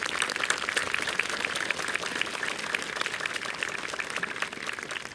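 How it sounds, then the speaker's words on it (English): Applause for award winners at a middle school moving-up ceremony, a steady wash of many hands clapping from a seated crowd, fairly distant and even throughout. "How about one more round of applause for all our award winners?"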